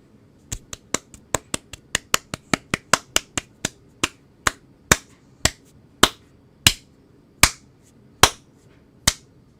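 Roughly two dozen sharp, close claps or snaps that start fast and steadily spread out into a slow, deliberate rhythm, each crisp and isolated against near silence, with no talking.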